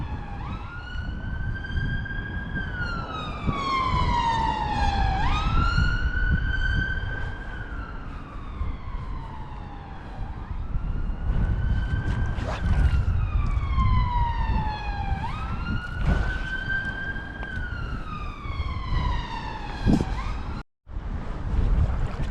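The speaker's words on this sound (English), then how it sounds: "there's a siren coming." A wailing emergency siren sweeps up and down in repeated cycles, loud and steady over gusting wind and surf noise on a windy night by the sea during salmon fishing.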